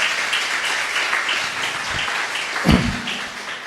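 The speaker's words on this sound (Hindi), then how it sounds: "आपने ताली बजाई, मुझे अच्छा लगा" An audience in a church applauds with a steady, moderate wash of clapping that lasts a few seconds, a few sharper claps standing out near the end.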